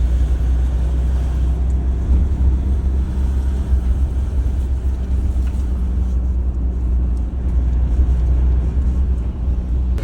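A car creeps along a badly damaged road in Ukraine at about 15 km/h, its interior filled with a loud, steady low rumble of engine and tyres jolting over the broken surface.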